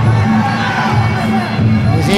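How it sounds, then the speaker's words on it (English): Crowd cheering at a Muay Thai fight at a Lion Fight event, a loud, sustained roar of shouts and whoops rising and falling without a break. "It's good to see that the crowd's behind both boys here,"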